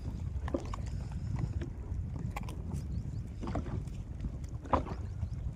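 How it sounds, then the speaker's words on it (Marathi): Strong wind sweeps across open water with a constant low buffeting rumble and scattered faint splashes and knocks, moderately loud and unbroken. "कारण की आता वारं सुटलेलं आहे मित्रांनो, बघू शकता"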